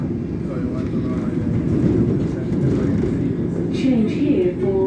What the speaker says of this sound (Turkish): This is the train to Liverpool Street.